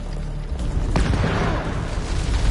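A grenade blows up in House of Ashes, a war-horror video game. A deep, loud boom rolls out with a sharp crack near the middle and a rumbling tail, and no voices.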